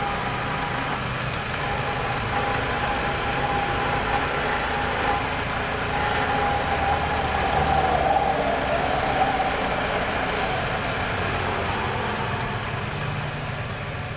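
A Honda Vario carburetor scooter engine runs at a steady idle just after starting, a continuous even mechanical hum close by with no one talking.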